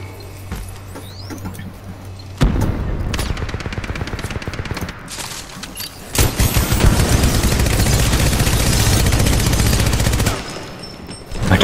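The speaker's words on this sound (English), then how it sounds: "Macam helikopter gunfire je." Rapid automatic gunfire from Titanfall 2 multiplayer, pilot-versus-pilot combat, comes in dense, loud bursts with short pauses between them, mixed with game effects and no talking.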